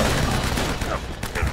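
Dense, continuous gunfire from the final showdown in the video game Uncharted: Drake's Fortune, a loud sustained burst of overlapping shots filling the whole moment with no pause.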